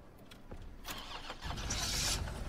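A car engine in the video game Resident Evil 3 Remake cranks and catches, rising from a quiet rattle into a louder running rumble near the end, with no voices.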